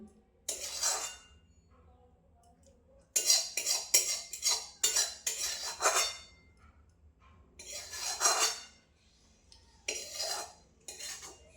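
Raw tomato dish being mixed by hand in a metal plate, with bursts of clinking and scraping against the dish separated by quiet pauses, close and moderately loud.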